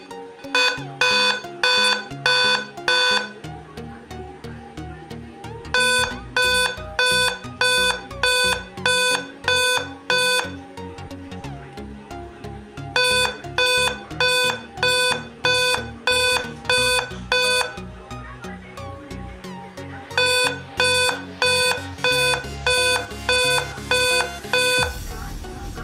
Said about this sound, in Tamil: என்னுடைய லேப் வந்து ஸ்டார்ட்அப் ஆகுறப்ப ஒரு பீப் சவுண்ட் கேட்டுக்கிட்டு இருக்கு